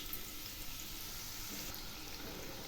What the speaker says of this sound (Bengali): এখন আমি 2টো পেঁয়াজ বেরেস্তা করে নিচ্ছি।